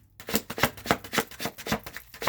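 Tarot-style cards are shuffled for a card reading, a close, crisp riffling with about nine evenly spaced flicks in quick rhythm, heard alone without talk.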